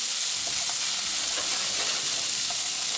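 Onions sweating in olive oil in a pan produce a steady, even hiss of soft sizzling throughout, with faint stirring and no voices.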